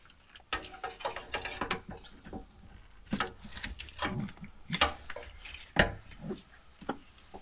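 Grease gun being pumped four times into the slip yoke Zerk fitting on a 5th Gen 4Runner propeller shaft, a series of close mechanical clicks and squeezes with scattered louder strokes, no talking.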